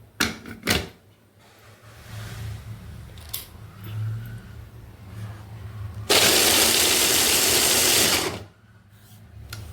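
An electric mixer grinder whirs in a loud continuous burst for about two seconds, after some scattered kitchen clatter and low background noise, then cuts off abruptly.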